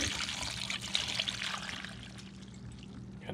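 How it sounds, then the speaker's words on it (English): Brine from fermented hot peppers pours and trickles out as the jar is drained, a steady close splashing stream that slowly eases, with no talking. "we're going to go ahead and drain these out"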